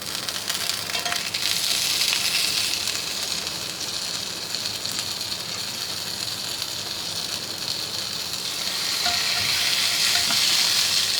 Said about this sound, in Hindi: अब हम इसको ग्रिल करेंगे।